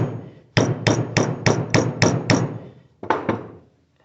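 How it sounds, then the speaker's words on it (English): A hammer pounds a cylinder seal into place on the stabilizer of a Case 580C backhoe: seven sharp, evenly spaced metallic blows, a short pause, then two more, all close and loud with no talking. "put it on the edge of the seal and just pound it down with a hammer"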